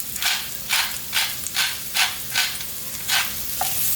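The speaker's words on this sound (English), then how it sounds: "Give that another quick stir." Onion, garlic and fresh ground black pepper sizzle in hot oil while a spoon stirs them in steady, regular strokes, each stir a soft scraping swish over a constant frying hiss, with no talking.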